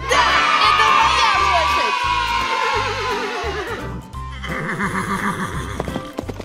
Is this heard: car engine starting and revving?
no